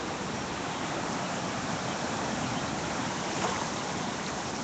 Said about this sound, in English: That water is moving very fast.